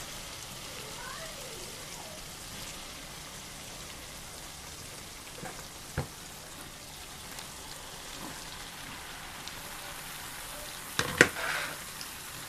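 Beef tripe hitting cooked-down spice paste in a pan, a faint steady sizzle like light rain, a few clatters, and a louder crackling burst near the end, with a voice speaking briefly.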